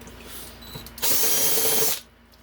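A power drill spins out a Torx screw while decasing a Schneider APC unit, a loud whirring burst of about one second after quieter handling noises, then stopping abruptly.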